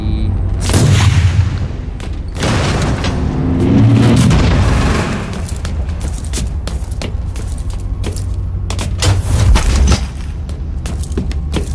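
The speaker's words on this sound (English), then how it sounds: "So triggers the grenade." A grenade goes off in the Warhammer 40,000 Inquisitor Martyr video game: loud, deep booming blasts and thuds rise and fall over a dense, continuous battle din lasting the whole stretch, with no talk.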